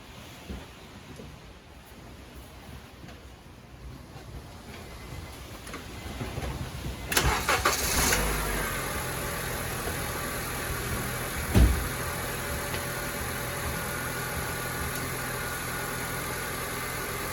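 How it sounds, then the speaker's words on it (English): A car with a P0128 engine fault code cranks and catches after a quiet stretch, then settles into a steady, even idle with one brief clunk partway through. "go ahead and start the engine"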